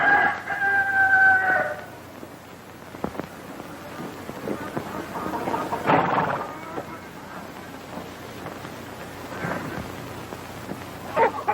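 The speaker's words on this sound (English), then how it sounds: "Abby, help me find that rooster." A rooster crows loudly at the start, a long drawn-out call, followed by fainter intermittent clucks and rustling noises over a low steady background rumble, with a second, more distant crow near the end.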